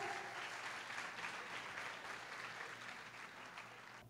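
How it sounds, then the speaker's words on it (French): A graduation ceremony audience applauds a graduate, giving steady, fairly faint clapping from a hall crowd that holds evenly throughout and tapers slightly at the end. "Applaudissez-le, s'il vous plaît."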